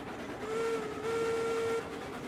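A train whistle in the video game Railroads Online sounds in one long steady tone with a brief break, over constant engine and rolling rumble, with no talk.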